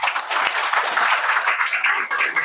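An audience claps and applauds steadily and loudly at a school Republic Day gathering, a dense continuous wash of hand claps with no voices.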